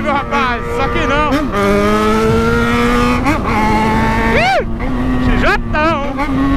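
A Yamaha XJ6 motorcycle engine revs hard and repeatedly bounces off its rev limiter, with rising and falling engine pitch and sharp cut-outs, loud and close, while people talk over it.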